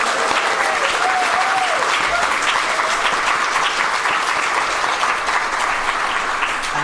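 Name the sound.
live podcast audience applause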